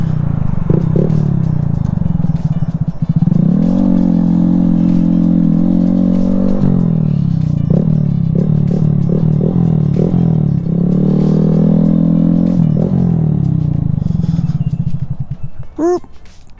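A Honda Grom motorcycle rides through town, its small engine droning loudly and close with repeated rises and falls in pitch as it shifts and revs, then fading as it slows at the end.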